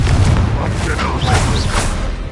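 Confringo fire spell in Hogwarts Legacy-style combat: a booming blast with a crackling burst, loud amid constant battle noise and shouted voices.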